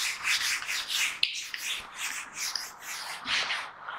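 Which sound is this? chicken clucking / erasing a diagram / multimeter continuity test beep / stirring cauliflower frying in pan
erasing a diagram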